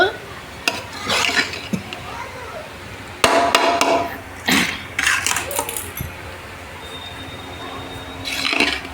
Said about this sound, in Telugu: కలుపుతున్నాం అన్నమాట ఫ్రైడ్ రైస్